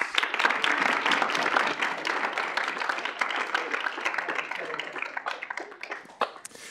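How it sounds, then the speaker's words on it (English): A crowd applauds steadily for several seconds, dense clapping that gradually thins out toward the end. "So if we could give them a round of applause."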